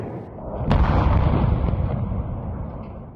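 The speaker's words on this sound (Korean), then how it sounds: "폭발 굉음과 함께 시뻘건 화염이 솟아오릅니다." Ammunition depot blowing up after a drone attack: a massive sustained explosive roar with a sharp blast near the start, loud and rumbling throughout with no talk.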